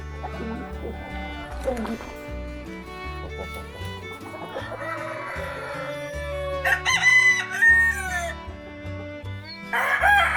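Blue Brahma and other chicken breeds in a coop, with roosters crowing and hens clucking loudly over a constant drone of music or ambience, the crows rising in bursts near the middle and end.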